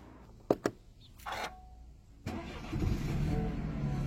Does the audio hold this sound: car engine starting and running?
yes